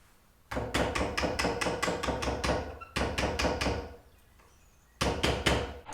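Rapid runs of light metallic taps drive pins back into the aluminium receiver of a Savage Revel Classic lever-action rimfire rifle, arriving in three quick bursts separated by short pauses, close and alone.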